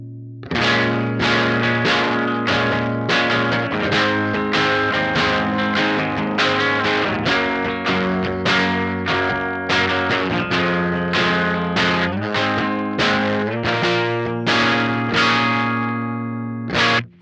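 Electric guitar played through an Electric Love Aquatone pedal at low gain, a steady run of evenly picked, lightly chorused notes ringing clean and loud throughout, ending with one final struck note.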